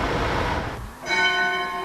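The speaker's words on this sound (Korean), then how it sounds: "부지런한 아저씨의 종소리도 들립니다." A church bell rings in a village in Sancheong, a clear metallic strike after a stretch of rushing noise, its tone ringing out and decaying over the final second.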